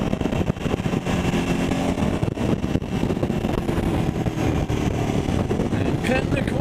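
A motorcycle riding down a rural road, its engine droning steadily and loud throughout, rumbling as the rider eases off the throttle to downshift, with wind noise mixed in.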